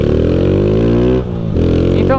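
A Honda Fan 160 motorcycle engine with a strange noise runs loud and close in a steady, buzzing idle, with a brief dip partway through and a possible short voice at the end.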